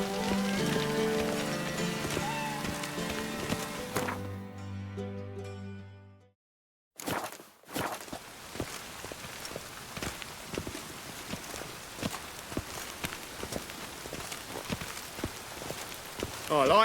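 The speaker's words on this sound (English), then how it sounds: "I like rain. Keeps the rogues indoors." Rain falls steadily in The Witcher 3 at the edge of a camp, a dense patter of drops hitting surfaces, with musical tones at the start, a brief gap of near silence, then continuous rainfall alongside scattered small knocks.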